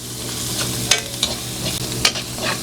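Onions and garlic, including two white onions, sautéing in a pan for adobo: a steady close sizzle with a few sharp scraping stirs of a utensil, no voices.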